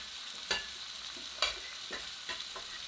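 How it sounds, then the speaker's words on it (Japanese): A veal chop sears in hot oil in a pan, giving a steady bright sizzle with a few sharper spits and crackles as the meat settles. "温度が上がってきたところで肉を入れます。"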